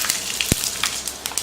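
Mustard seeds and spices such as fenugreek, cumin and asafoetida sizzle in hot oil, a short crackling burst with a sharp pop or two.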